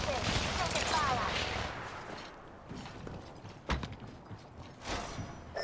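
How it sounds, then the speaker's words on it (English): Rapid bursts of gunfire fill an Apex Legends firefight, with layered automatic shots, thuds and scattered impacts in a busy, noisy game mix. "Taking fire."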